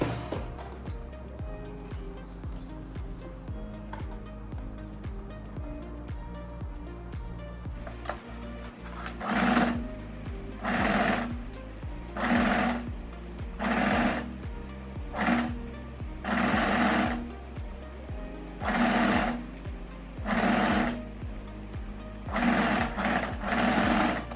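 A sewing machine stitches a seam on a tie-front vest or waistcoat, running in repeated loud bursts of a few seconds each, separated by brief pauses, with a steady low hum underneath and no talking.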